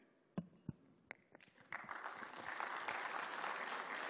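Audience applause at a 2015 Game Developers Conference talk: a few scattered claps at first, then the applause swells into a steady, dense roar of many hands.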